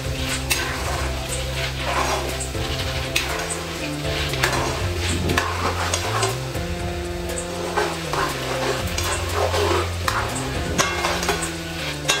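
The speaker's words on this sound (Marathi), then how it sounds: "आता आपल्याला फुटाणा डाळ तळून घ्यायची" Split roasted chickpeas (phutana dal) frying in oil for a crispy Marathi-style Diwali chivda, with a bubbling sizzle, clinks of utensils against the pan and stirring, all heard under steady background music.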